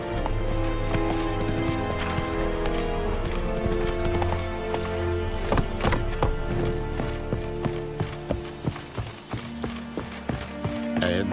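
Horse hooves galloping in The Witcher 3, a steady clip-clop of hoofbeats running continuously alongside game music and ambience, fairly close and loud throughout.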